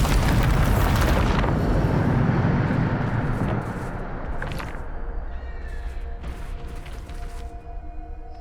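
A Bombarda spell blast in Hogwarts Legacy erupts as a loud, broad rumbling roar that fades after a few seconds, followed by quieter magical shimmering tones and scattered impacts.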